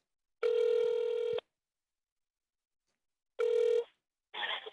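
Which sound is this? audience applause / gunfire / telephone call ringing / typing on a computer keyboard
telephone call ringing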